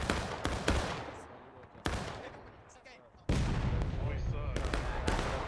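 Black-powder musket fire in a War of Rights online Civil War battle, several sharp cracks and a ragged volley popping near and far, each followed by rumbling echo, with a voice speaking in places.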